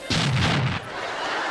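A single loud, booming explosion effect bursts out abruptly and rumbles for under a second before cutting to quieter room tone, standing alone without speech over it.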